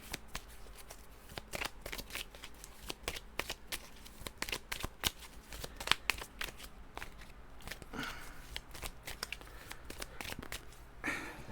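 Cards from The 7th Continent board game are shuffled and handled at close range, with a steady run of quick papery riffles and flicks plus a few louder snaps, and no talking.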